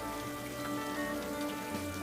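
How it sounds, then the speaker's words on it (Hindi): Heavy rain pours steadily outside in a Hindi cartoon story, a dense, continuous wash of close drops beating on a surface with no voices over it. "तभी जोर जोर से बाहर बारिश हो रही"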